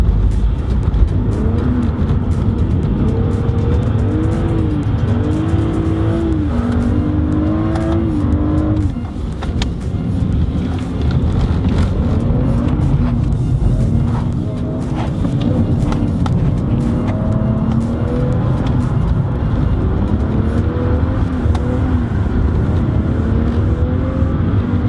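A BMW drift car with a hydraulic handbrake and a 7000 rpm rev limiter runs hard on a race circuit, its engine close and loud, revving continuously with rising and falling pitch and no real pause.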